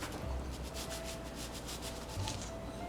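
A knife slices through soft Nutella-filled bread dough, cutting it into strips. It makes a soft, close scraping rub in short repeated strokes over a faint background hum, with no talking.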